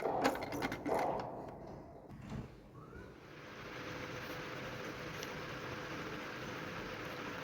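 A domestic sewing machine running steady stitching at home, a continuous even mechanical whir after a few clunks and handling knocks at the start, moderately close and fairly quiet.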